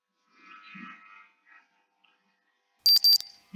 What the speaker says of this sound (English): notification comes out again, alarm is going off